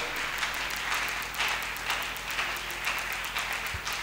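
A church congregation claps steadily in a rhythmic, distant wash of applause that continues throughout, with a faint background hum.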